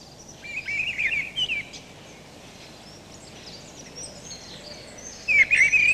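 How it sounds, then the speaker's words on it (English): A mistle thrush sings short, strident, flute-like phrases, one bout early and another at the end, clear against quiet outdoor background with no talk. "The song may be heard as early as February and consists of short, flute-like phrases, more like a blackbird's than the song thrush's, but quite strident."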